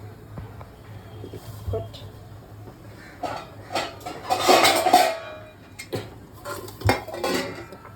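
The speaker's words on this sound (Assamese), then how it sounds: "এতিয়া পনীৰটো মই কাটিম।" Paneer is cut with a knife in a home kitchen, giving sharp clicks and knocks against a board or plate. Scattered clinks of utensils fall around the cuts, with the loudest cluster of taps in the middle.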